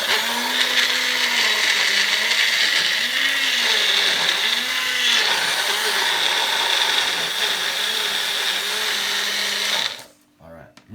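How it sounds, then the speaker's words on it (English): A small kitchen blender runs steadily for about ten seconds, whirring loud and close with a rising and falling motor pitch as it chops ingredients, then cuts off abruptly into quiet. "because it's a small blender, what we want to do, we want to blend it first"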